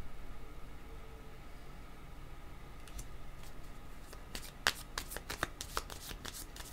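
Tarot cards are shuffled close up, a quiet riffling patter that gives way to a few crisp card snaps and flicks toward the end.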